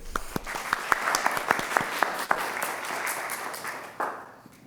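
Audience applause at a library author talk, a steady wash of many hands clapping with a few sharper individual claps, fading toward the end.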